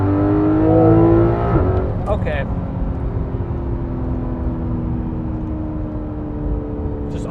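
A Porsche 911 GT3 RS (991) engine roars and revs up, then settles into a steady loud drone, with a brief spoken word partway through.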